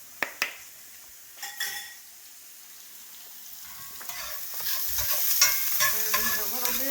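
Scrambled eggs stirred in a frying pan for a low-carb breakfast: a few spoon clicks on the pan, then a building, steady sizzle with scraping and stirring as the heat rises, close and moderately loud.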